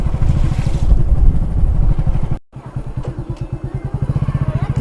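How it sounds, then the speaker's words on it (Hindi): A motorbike ride with a steady, loud engine putter close by, throttle rising and falling, cutting out briefly mid-way before the rhythmic engine pulses resume. "थोड़ा बाइक को आराम से चलाइएगा भैया।"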